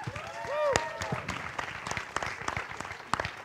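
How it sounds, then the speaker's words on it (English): Scattered audience applause for a comedian at a cinema Q&A, a modest crowd clapping for a few seconds with a voice talking over the start. "You should also give him a clap."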